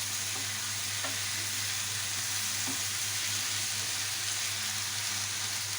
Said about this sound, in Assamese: গেছৰ ফ্লেমটো বঢ়াই ধুনীয়াকৈ মিলাই দিছোঁ।